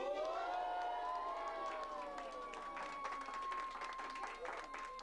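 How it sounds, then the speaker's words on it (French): An audience of children and adults applauds a film at a school cinema-class screening, with steady clapping under loud whoops, shouts and excited voices throughout. "on peut encore applaudir bien fort ce film"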